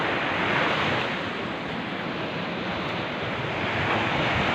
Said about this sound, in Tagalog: Yan ang dagat.